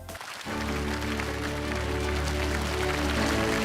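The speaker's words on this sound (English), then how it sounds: "So please give a warm round of applause to the beautiful Jane." A dense, sustained round of applause from an audience welcomes a woman named Jane onto the stage at a launch event for an international tourism revival plan. It swells after a brief quiet start and holds steady and loud to the end.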